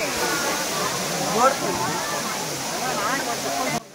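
Jerry Falls waterfall in Chikmagalur: a constant rushing hiss of falling water close by, with a voice talking over it.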